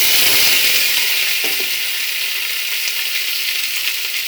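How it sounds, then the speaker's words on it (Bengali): Boiled potatoes for a bhuna aloo dum frying in hot oil, a steady loud sizzle throughout with a few faint clinks of stirring, no voices. "এবার ভেজে নেব।"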